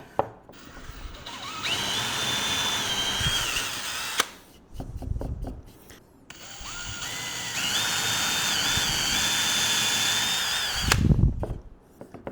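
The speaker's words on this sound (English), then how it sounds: "And now we'll just drill that hole." A power drill bores a pilot hole into the base of a binary clock in two long whining runs, its pitch shifting as the bit bites, with a short pause and clunks of handling between and after.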